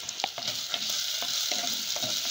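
Onion and curry leaves sautéing with a pinch of salt for a potato appalam kootu: a steady close sizzle with several light stirring scrapes of a spoon, no talking.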